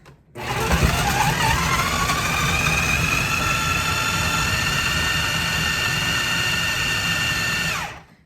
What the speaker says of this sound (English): People have asked about my food processor. This is a KitchenAid.